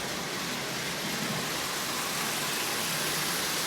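A Marx motor fitted inside a Lionel 8351 diesel model locomotive shell runs steadily, giving a soft, even whirring hiss that stays constant and fairly quiet throughout.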